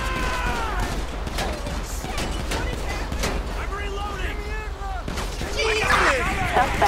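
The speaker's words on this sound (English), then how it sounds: "Oh, he's shooting!" Gunfire from an enemy in a video game, a flurry of sharp shots crackling through a chaotic scene, with people talking and shouting over the shooting and a louder burst near the end.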